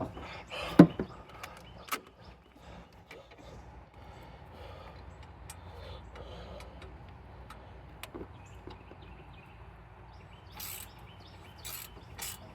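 Ratcheting work on the exhaust bolts of a 1987 Pontiac Trans Am GTA, with a sharp clank near the start, then quieter scattered ratchet clicks and metallic handling, plus a few brisk rasping bursts toward the end.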